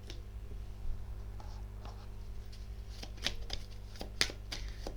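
Tarot cards are shuffled close by for a reading, giving soft repeated riffles and flicks with occasional sharper snaps over a steady low hum, no talking.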